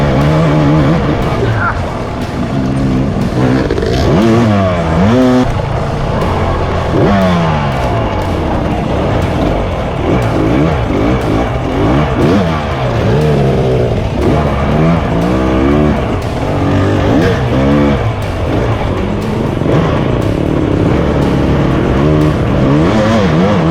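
A dirt bike engine revs hard and continuously through a hard enduro race in mud, with rising and falling pitch sweeps as the throttle opens and closes, loud and close throughout.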